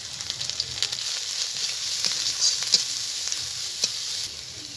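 Spice paste of ginger, turmeric, cumin and dry chilli fried in a pan for a green banana kofta curry, a soft continuous sizzle with light stirring scrapes and small pops, close and fairly quiet.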